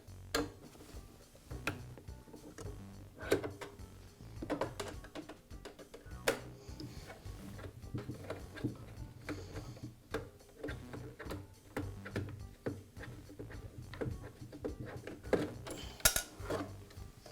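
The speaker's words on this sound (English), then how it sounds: "First, I'll remove the screws." A wrench backs screws out of the blower housing on a DeWALT planer, producing small close metallic clinks and ticks over a steady low hum.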